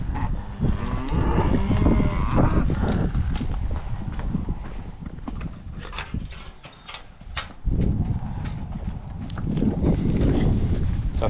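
Cattle mooing in a hill paddock, several low calls spread through the stretch with a quieter gap partway, close and fairly loud, with some hoof and rustling sounds around them.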